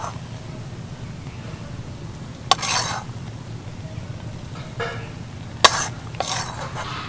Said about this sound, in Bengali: এবার এটাকে একটা পাত্রে নামিয়ে নেব।